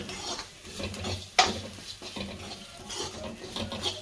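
Cooked rice is stirred with coconut in a pan using a spoon, giving soft scraping and clinking close by, with one sharp metallic tap partway through.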